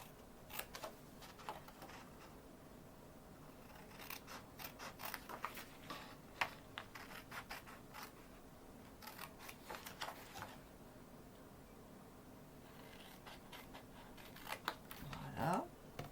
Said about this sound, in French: je vais venir découper tous mes petits morceaux qui sont ici